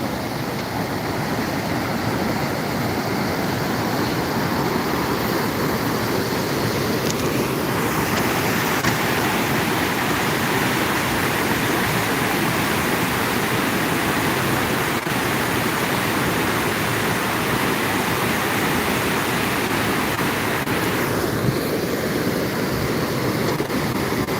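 The Tapi River in flood near Surat rushes in a steady, loud, broadband roar of churning water, continuous and unbroken with no voices.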